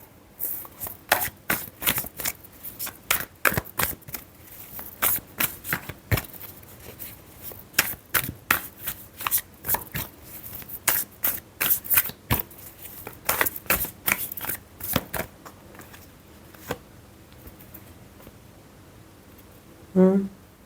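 A deck of tarot cards is shuffled by hand in repeated crisp riffles and flicks, arriving in irregular bursts with short pauses between them. It ends in a brief faint sound near the close.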